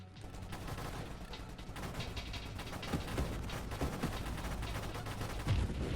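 A weapon barrage fires continuously in the space shooter Nova Drift, a rapid stream of sharp gunshot-like bursts layered into a dense, driving rattle that holds steady and grows slightly louder toward the end, with no voices.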